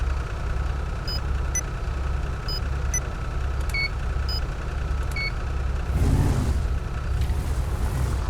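A Ram truck's engine idles low and steady as it manoeuvres in a roleplay video game, with faint electronic beeps repeating and a brief whooshing surge near the end.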